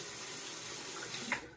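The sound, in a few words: water draining out of a sink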